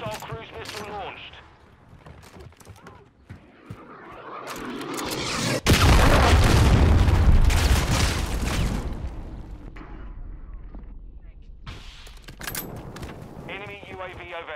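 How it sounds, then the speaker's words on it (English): A loud, broad explosive blast from a cruise missile strike in Modern Warfare 2 multiplayer, a sudden boom that swells and rumbles for a few seconds, with gunfire and game voice callouts around it. "Hostile cruise missile launched."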